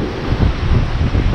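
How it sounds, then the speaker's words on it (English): Heavy wind roars and buffets the microphone in a dense, continuous rumble, loud and close, by a deep water river in Hawaii, with no other sounds standing out. "It's pretty windy out here right now."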